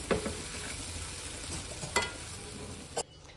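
Spoon stirring a menthya goli mixture in a pan, soft continuous scraping and light sizzle with a few sharp clinks of the utensil against the pot.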